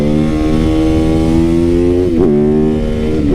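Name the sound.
supermoto motorcycle engine while riding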